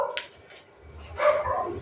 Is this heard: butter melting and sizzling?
no